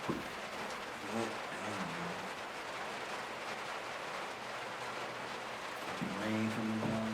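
Steady rain falls outdoors as a soft, continuous hiss, with a few faint voice-like tones at the start and near the end.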